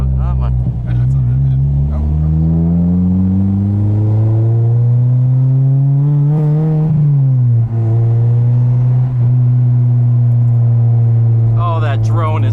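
A loud, steady exhaust drone from a slammed 2009 Honda Civic Si with a K24 engine swap, low in pitch, rising and falling slightly as the car cruises, plus occasional speech over it.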